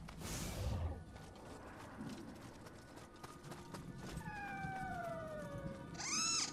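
A cat-like yokai creature, a scampus, in the video game Nioh 3 lets out a short rising-and-falling meow near the end, preceded by faint in-game ambience and a few soft scuffs.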